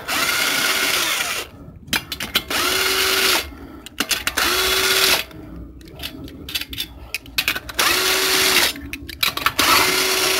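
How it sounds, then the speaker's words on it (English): A vehicle lift raising the back end of a Nissan Rogue in a repair shop: a loud mechanical whirring motor runs in repeated bursts, each ending with a rising tone, separated by brief pauses and clunks. "let's lift the back end up and uh, see if we can get some more fluid out."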